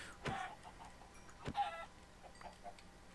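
Chickens clucking in a coop in Minecraft, a few short sparse clucks and ticks, faint and close.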